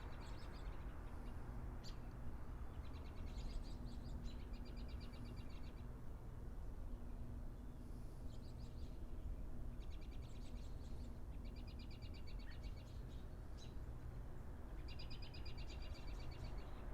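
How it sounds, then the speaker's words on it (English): Faint bird song chirps in short repeating bursts from a distance, over a steady low rumble of background noise. "I'm sure you can hear the birds all around right now."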